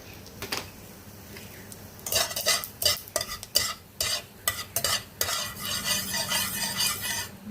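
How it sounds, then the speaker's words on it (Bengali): Cumin seeds fry in ghee over low heat, a soft sizzle broken by bursts of spoon stirring and scraping against the pot, close and fairly loud, with no voices. "জিরে দিয়েছি, জিরেটা একটু ভাজা হয়ে যাক।"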